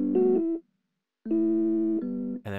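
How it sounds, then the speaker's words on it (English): Rhodes electric piano in an Ableton electronic music production plays sustained, bell-like chords: one short chord, a pause of silence, then a longer held chord that changes near the end. "so we have the Rhodes"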